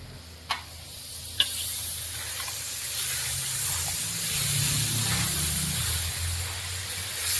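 Chicken cooks in sesame oil with a ground masala of dried chilli, pepper and cumin, giving a steady close sizzle and hiss. A couple of sharp taps come early, followed by continuous frying with a low rumble and no speech.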